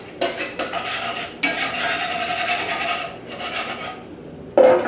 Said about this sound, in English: I'm going to put them back into the saucepan over a low heat and continually whisk it until thickened